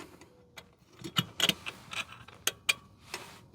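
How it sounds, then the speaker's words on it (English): A bolt being worked loose from the shifter bracket of a Nissan 300ZX gives sharp metallic clicks and ticks in an irregular cluster, close and fairly quiet, with a few louder taps in the middle. "First bolt coming out."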